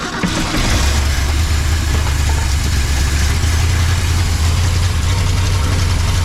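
A 1979 Ford F-250 truck engine catches and settles into a loud, steady, rough idle with a deep rumbling drone that carries on without a break, close by and with no talking over it.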